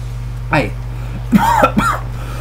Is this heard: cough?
yes